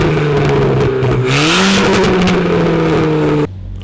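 A Stage 3 Ford Fiesta ST with an enhanced overrun map drones loudly from inside the cabin under load, its engine note rising and falling steadily before dropping off abruptly near the end.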